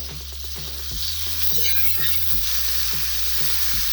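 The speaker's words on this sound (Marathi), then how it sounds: "तर आता आपलं हे तेल गरम झालेलं आहे, तर आता आपण हे वाटण टाकून घेऊया" A ground spice paste hits hot oil for Marathi-style egg curry, bursting into a loud, crackling sizzle that continues steadily alongside a few sharp clicks and scrapes of a spoon, close by and without speech.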